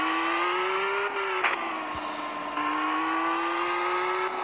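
A car engine drones steadily in a GTA-like driving game, a loud, continuous hum that shifts pitch slightly as it speeds up and eases, with a brief skid-like blip midway.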